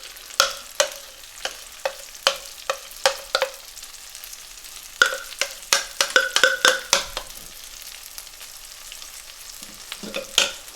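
A thick paste with whole spices for reshami malai chicken fries in a pan while being stirred. Sharp spoon clanks land in irregular clusters, separated by quiet gaps, over a faint background sizzle.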